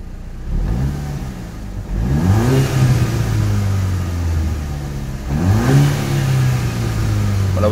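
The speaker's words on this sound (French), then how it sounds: "La voiture pétarade un petit peu" Seat León Cupra with a 240 hp 2.0 TFSI engine revving twice in loud close bursts, rising then settling into a steady drone, with exhaust popping after each rev.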